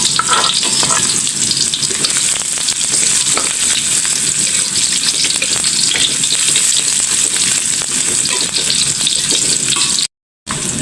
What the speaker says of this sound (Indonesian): Yang pertama kita numis dulu pakcoy, bawang merah, bawang putih masuk